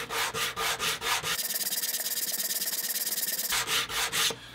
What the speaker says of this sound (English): I'm going to level these edges a little bit. I just have a piece of sandpaper.